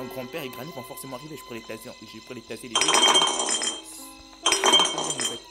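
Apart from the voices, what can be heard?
vase falling and breaking in the video game Granny Chapter Two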